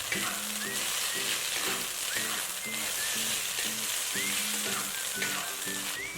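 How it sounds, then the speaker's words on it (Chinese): Baby cabbage and ham sausage stir-fry in a wok with scallions, giving a steady close sizzle and crackle of hot oil punctuated by regular scraping strokes of a spatula, with no talking. "炒到娃娃菜的叶子变透，就倒入火腿肠，翻炒均匀。"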